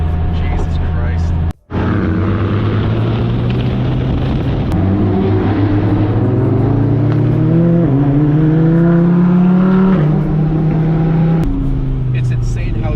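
A Lamborghini Huracan engine revving hard, loud and close, with a deep rising roar that climbs through revs, and a voice speaking over part of it.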